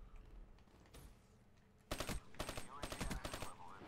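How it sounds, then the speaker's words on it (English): Rapid automatic gunfire in Call of Duty Black Ops 3 team deathmatch on the Fringe map: a sharp, loud burst of several quick shots, then more bursts, after a quieter stretch. "Nah, I just shot three times and missed."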